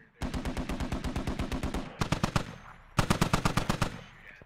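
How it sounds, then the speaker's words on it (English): Heavy machine guns blaze in the Squad military shooter, long rapid bursts of loud automatic fire in close range, broken by short pauses before fresh bursts resume. "the HMGs are opening up"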